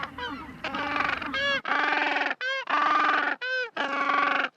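Penguins call loudly and close, a run of harsh, braying honks that rise and fall in repeated bursts, some squeaky and trumpet-like, with brief gaps between calls.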